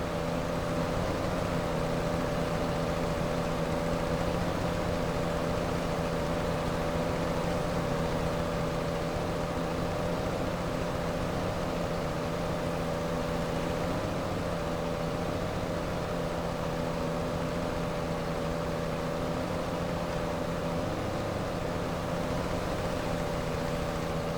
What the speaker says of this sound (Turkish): Traktörün sesi çok harika ya. Çok hoşuma gidiyor şunun sesi.